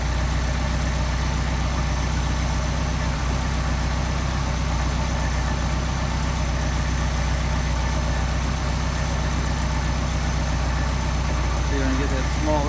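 A Mercedes 190SL engine idles steadily on Solex carburetors, a constant close rumble lasting throughout while someone talks over it.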